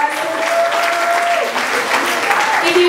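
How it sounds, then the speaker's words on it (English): Sustained audience applause at a Caribbean shrimp festival launch event, dense steady clapping filling the room for about three seconds with some voices mixed in beneath. "Please give them a big round of applause."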